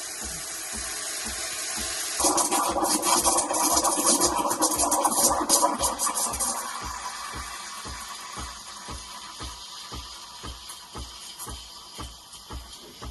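A Breville Barista Express steam wand heats milk with a rapid, even pulsing of the pump beneath a loud rushing hiss that swells for several seconds mid-way, then eases back to a softer hiss with the pulsing still going.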